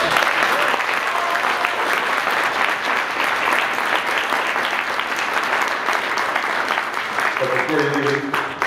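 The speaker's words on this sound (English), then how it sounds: "A round of applause for our candidates." An audience at a provincial election transportation debate breaks into loud, sustained applause that fills the room evenly, with a voice starting to speak as it fades near the end.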